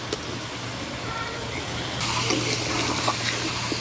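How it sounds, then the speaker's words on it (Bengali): Water pours into a pan of fried chicken curry, a gushing rush that starts partway through and gets louder over a low background hum. Nobody speaks. "আমি চিকেনগুলো ভালোভাবে কষে নিয়েছি এখন আমি জল দিয়ে দিচ্ছি"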